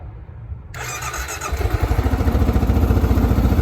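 A Kawasaki KLR 650 motorcycle engine cranks, catches and fires up, settling into a loud, steady rhythmic idle with pulsing exhaust beats.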